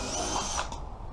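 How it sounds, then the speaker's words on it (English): A power drill whines briefly and steadily while pre-drilling into wood for an elevated garden bed, then winds down. "We're going to want to pre-drill."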